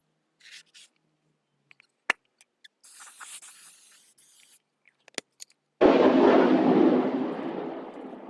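Military aircraft from a nearby base flying over a house, a loud, sustained broadband roar that bursts in suddenly after a stretch of faint, scattered small sounds and stays strong to the end.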